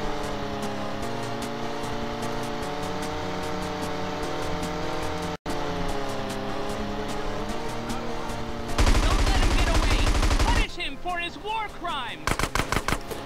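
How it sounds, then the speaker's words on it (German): Gunfire erupts from a car in GTA San Andreas amid tonal game engine and music sound, then a loud dense burst of shots followed by rapid staccato volleys toward the end. "Ach, der schießt auf uns."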